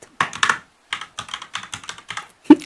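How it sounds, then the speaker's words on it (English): Crisp ASMR keyboard typing: several quick bursts of key clicks with short pauses between them, close and clear, ending in a single heavier thump, with no voice. "ASMR keyboards."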